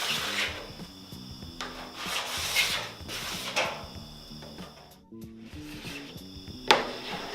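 Wax being scraped off a snowboard in slow, linear strokes: repeated rasping, rubbing passes of moderate loudness, close by, with a brief sharp knock near the end.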